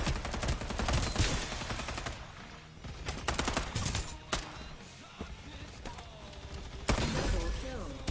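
Repeated bursts of gunfire from the Farlight 84 battle royale game crack out across the stretch, with loud volleys near the start, middle and end under game music and effects, while voice lines speak over the shooting.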